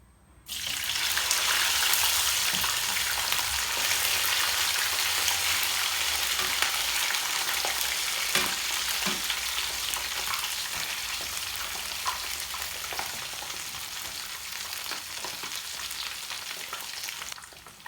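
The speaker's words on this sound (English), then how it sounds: "Gonna add the beef. The oil is quite hot, so I'm gonna stay away." Beef dropped into very hot oil for frying sets off a loud, steady sizzle that begins abruptly and crackles on continuously, with occasional pops and stirring scrapes and no talking.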